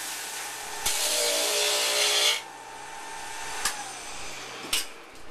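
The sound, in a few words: sanding NSP lamination socket with dull sandpaper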